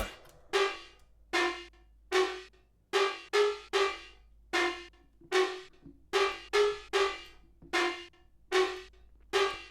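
A bouncy trap-style synth lead patch built in Vital plays a rhythmic line of short, plucky notes with sharp attacks and quick decays, steady and upfront with a low sustained bass tone underneath and no voices.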